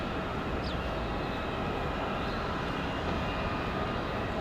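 An Endeavor Air airliner arriving from JFK approaches in a gusty crosswind at Raleigh-Durham airport. Its jet engines make a steady, broad roar that stays loud and unbroken throughout, with no talk.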